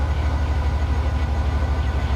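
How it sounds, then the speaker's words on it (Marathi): A train in Train Sim World 3 on the London Charing Cross to Gravesend route, heard as a steady low rumble with a regular rhythmic pulse of rolling wheels, loud and continuous with no talking. "ओ हाय अजून एक ट्रेन येते"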